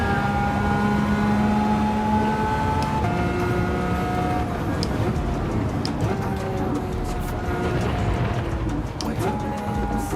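A Lamborghini Countach engine drones loudly in Gran Turismo 7, holding a steady revving tone with several pitch drops as it shifts gears, while a person talks over it.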